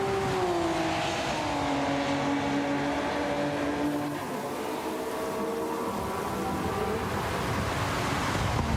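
Race cars lap the Red Bull Ring in a racing video game. A steady engine whine falls in pitch as a car passes close by, then a broad, rushing drone of engines continues at a fairly even level.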